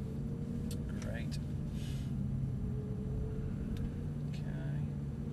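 Audi R8 creeping slowly toward an open garage at Silverstone, a steady low engine rumble holding throughout with a few brief higher squeaks, voices talking quietly over it.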